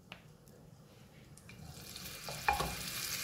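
Oil with a spoonful of butter heats in a pan, starting as a faint crackle and rising into a louder sizzle over a few seconds, close up.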